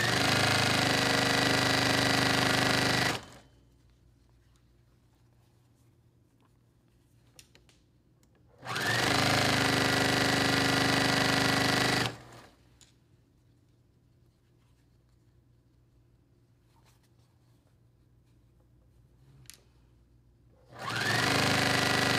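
A sewing machine pieces scrap fabric for a quilt, running in steady loud bursts of a few seconds each, separated by long quiet gaps with faint handling noises.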